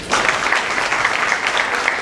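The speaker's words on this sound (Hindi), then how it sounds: "जोरदार तालियां।" An audience at a sales training session bursts into brisk, dense applause, steady clapping filling the room for a couple of seconds.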